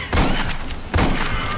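Bursts of rapid gunfire crackle in two loud volleys, with heavy thuds beneath the shots, from the video game Aliens: Colonial Marines.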